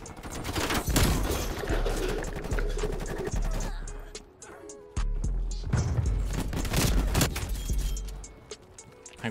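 Repeated Street Sweeper shotgun blasts from a video game, loud and close, several bursts with a pause near the middle that fits a reload before firing resumes, with no talk.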